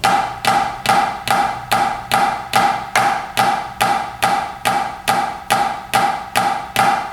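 Drum strokes of a left-handed flam rudiment on a practice surface: fourteen sharp, evenly spaced strikes, each a close grace note and accent pair, played at a steady rhythm with nothing else heard.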